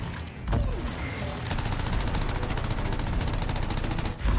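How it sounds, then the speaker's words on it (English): A barrage of rockets fires in the co-op shooter Anthem: dense, rapid bursts of explosive shots run nearly continuously and loudly after a brief opening blast, with no speech over them. "He's shooting a shit ton of rockets."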